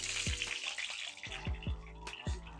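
Cumin seeds roast in a pan for green chilli chutney, a soft crackling sizzle broken by a few low knocks of a spoon against the pan.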